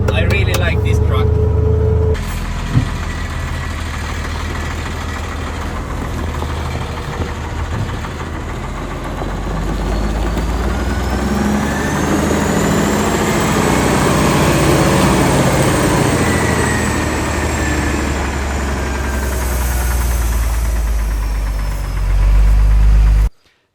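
Euro KamAZ truck engine runs with a heavy low-pitched drone and a knocking rumble, swelling and easing as the truck drives, loud and near, with someone talking over it and a sharp cutoff at the end.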